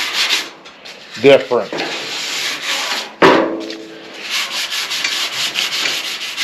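Sandpaper rubbing over primer on a 2002 Ford F350 during rust repair, steady close scratchy strokes with brief pauses and a short spoken word in between.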